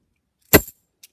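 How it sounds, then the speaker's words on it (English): Clad half dollar coins dropped into a hand give one short, dull metallic clink followed by a faint tiny tick, close and isolated in silence. "So a clad half dollar is going to sound like this when you drop it."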